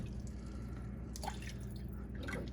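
Water poured into a bowl of rib sauce mixture with cider vinegar, a close splashing trickle running steadily for a couple of seconds with a few brighter drips, no talking.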